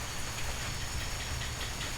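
Fresh rain pours steadily during an ocean thunderstorm in a rainforest setting, a constant close hiss of drops on surfaces with a soft low rumble underneath and no break in the downpour.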